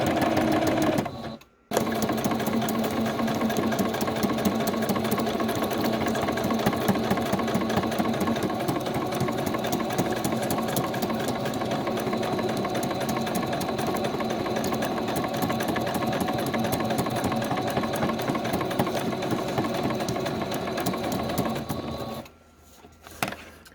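A sewing machine stitches zigzag along primitive paper journal tags, a loud, close, continuous mechanical whir lasting about twenty seconds between a brief stop near the start and a slowdown at the end.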